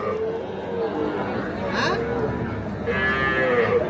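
Calves and cattle at the Ambari cattle market, with a low moo rising out of steady crowd chatter and outdoor market bustle, the animal call fairly near and carrying over the voices.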